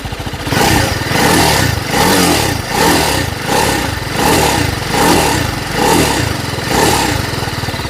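An Apache RR310 motorcycle engine in rain riding mode revs repeatedly in a regular rhythm, rising and falling about once a second, loud and close.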